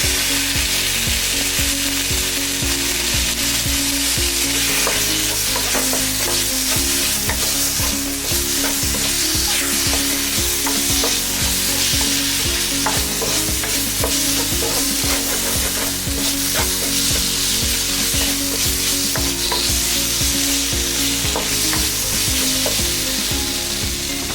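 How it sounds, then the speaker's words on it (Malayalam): Tomatoes stirred into frying squid roast masala, a loud continuous sizzle with rapid rhythmic scraping and clanking of a spoon against the pan throughout. "ഇനി തക്കാളി ചേർത്ത് ഇളക്കുക."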